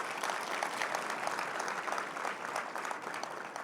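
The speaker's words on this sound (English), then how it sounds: "Let's give a round of applause for all of that." Applause from a conference audience at a university real estate center event, many hands clapping in a brisk, moderately loud patter that stays steady throughout.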